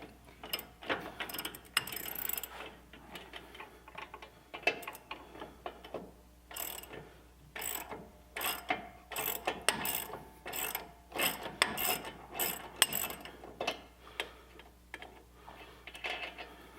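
A ratchet fitted with a long socket clicks in repeated quick bursts while turning an 18mm shock bolt on a 4wd Chevy V8 Colorado, the close, fairly quiet ratcheting broken by brief pauses.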